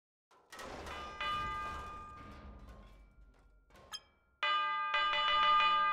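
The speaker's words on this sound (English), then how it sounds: "What happens if you make a giant bell?" A giant bell rings in the physics sandbox game People Playground, giving a few clear metallic strikes with sustained ringing tones, the last one a loud, bright chime.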